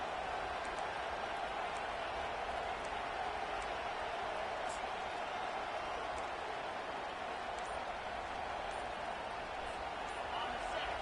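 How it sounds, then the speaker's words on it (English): A huge video game stadium crowd at a UCLA at LSU college football game roars steadily throughout, a dense, constant wall of cheering with no breaks. "Listen to this crowd just shaking the girders of this place"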